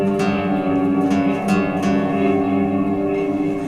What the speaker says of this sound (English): when you pluck the string on your guitar, the note's not coming out the amp, but the reverb is.